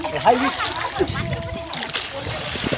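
Water splashes and sloshes nearby as children swim in open water, with irregular splashes under a voice talking.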